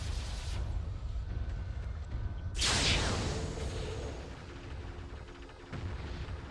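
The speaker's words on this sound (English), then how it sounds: "Missile launch detected." A missile launch in the Mechwarrior 3 video game: a sudden loud broadband whoosh-blast that swells, then fades into a rumbling roar over steady low engine drone.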